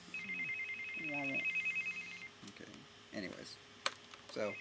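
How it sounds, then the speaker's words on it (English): A cell phone rings in a repeating electronic pattern, faint and steady, under someone talking nearby with some clicks and handling noise. "my cell phone is ringing."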